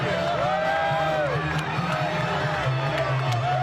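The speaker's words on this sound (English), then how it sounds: "Look at the crowd, folks. Nothing but pure electricity." Loud boxing arena crowd cheering and whistling continuously at a De La Hoya–Mayweather fight, with a commentator speaking over the din.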